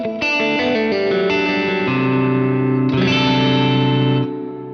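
Electric guitar through a Walrus Audio R1 reverb pedal with pre-delay at minimum, a few struck notes and chords whose reverb swells in at once and rings on, fading at the end.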